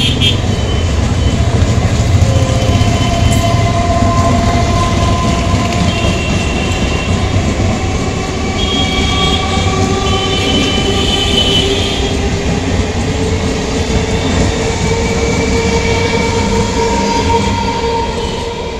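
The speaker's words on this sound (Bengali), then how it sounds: "31151 আপ শিয়ালদা বর্ধমান লোকাল জগদ্দল রেল স্টেশনের দিকে যাচ্ছে।" The 31151 Up Sealdah–Bardhaman local train passes near Shyamnagar station, bound for Jagaddal. Its rumble and wheel clatter stay loud and close for the whole stretch, with no break.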